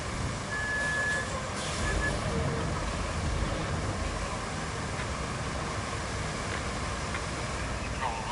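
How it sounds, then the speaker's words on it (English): Truck rolling in the game RoadCraft, a steady low engine drone with a brief high reversing beep early on, moderately faint and continuous. "Incoming truck."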